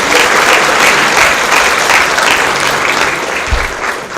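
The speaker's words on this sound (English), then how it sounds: "but give a big round of applause to RI." A crowd at a university computing-projects presentation night applauds loudly and continuously, a thick sustained wash of clapping with little variation throughout.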